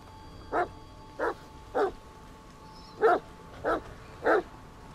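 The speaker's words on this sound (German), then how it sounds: "Ein Hund bringt mir einen Schuh." A dog in the horror video game The Medium gives six short, evenly spaced barks and yips, moderately loud and alone against a low ambient background.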